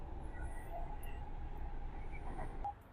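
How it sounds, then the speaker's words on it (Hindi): A metro train rumbles into a station with a steady low roar and a faint whine, holding constant and then dropping away at the end, with no voices. "नेक्स्ट मेट्रो आ गई।"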